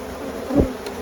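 Bees at a honeybee hive during an inspection, a single close buzzing pass swelling briefly and fading over a soft background hum, no talking.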